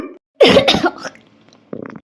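A few harsh coughs burst out close by, followed after a short pause by a softer, quick cluster of coughs.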